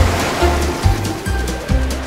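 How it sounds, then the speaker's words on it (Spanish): Cartoon ocean waves surge and crash at a beach in rolling bursts, a steady broadband wash punctuated by deeper low whooshes roughly every half second, loud and close with no talk. "¡Cuidado! ¡Una ola gigante!"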